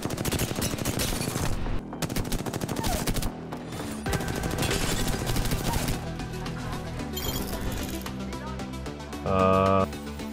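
Rapid automatic gunfire crackles in Apex Legends, with loud dense bursts of shots running almost nonstop, a few brief pauses, and game effects mixed in.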